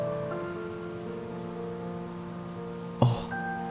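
Steady rain falls in the video game Heavy Rain, a continuous patter under sustained tonal ambience, broken near the end by a sudden sharp impact sound before the rain continues.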